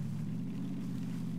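Steady low rumble of a vehicle engine in the PUBG video game, a continuous droning hum held at even loudness throughout with no talk.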